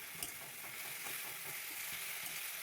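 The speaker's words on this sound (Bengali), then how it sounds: "রসুনটা ভালো করে ভেজে নেব যতক্ষণ না রসুনের কাঁচা গন্ধটা যায়" Garlic with ginger and green chili paste frying in a pan for an egg curry, a soft steady sizzle with faint crackles and occasional stirring scrapes, close and quiet with no voices.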